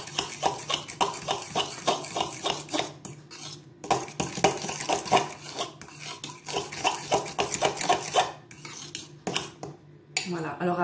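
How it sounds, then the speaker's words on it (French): Risotto stirred in a pot, a close, repeated scraping of a utensil against metal in uneven strokes with brief pauses between them and no talking. "vous mélangez jusqu'à avoir une bonne consistance"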